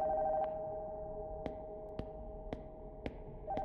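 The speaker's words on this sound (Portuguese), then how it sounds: "O telefone lá em cima tá tocando." A telephone in a horror game rings from upstairs in a house at night, a steady electronic tone pulsing over a low hum with regular faint clicks, distant and muffled.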